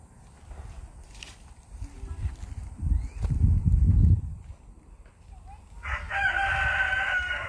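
A rooster on a farm lets out a loud, drawn-out crow near the end, after a stretch of low rumbling and shuffling noises close by.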